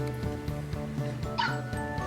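Virtual dogs in a Nintendo DS game yip and whimper in short, close bursts over steady, tinkly game music.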